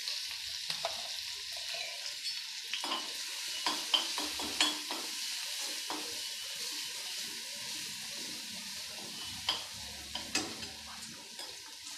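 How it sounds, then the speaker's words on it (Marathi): Chili paste sizzles in a little hot oil as it is stirred in a pan, a soft steady frying hiss broken by scattered clinks and scrapes of the spoon. "तेल गरम झालं की मिरचीची पेस्ट टाकायची।"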